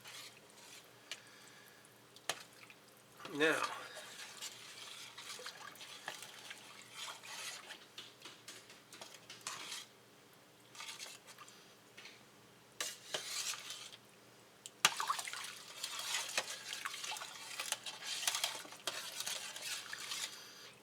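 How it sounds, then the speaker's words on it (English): A spoon stirs chili and lots of filtered water in a large pot holding about 1.5 gallons, with scraping clinks of utensil against the pot and sloshing, a sharper burst early on, then steady stirring. "Stir it all up."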